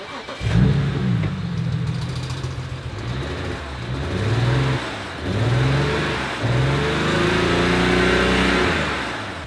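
A BMW car engine starts up and is revved several times, rising and falling in pitch in repeated surges, loud and close.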